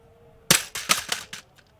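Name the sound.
rifle scope dropped, windage turret hitting concrete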